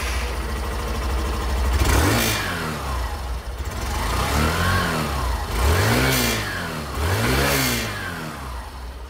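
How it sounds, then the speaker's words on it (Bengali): Hero Ignitor Xtec 125 motorcycle engine revved in several rising and falling blips, its exhaust note loud and close, with a steady idle between revs. "এবার এক্সস্ট নোট চেক করি।"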